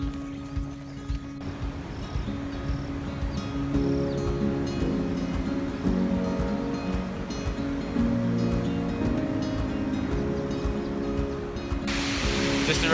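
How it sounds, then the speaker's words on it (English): The Blue Nile Falls waterfall in Ethiopia gives a steady, distant broadband roar that runs under traditional music-like tones and faint voices. "I can hear the waterfalls."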